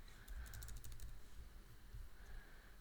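Quick bursts of keyboard typing, a flurry of close clicks early on, followed by quieter gaps and a faint hum.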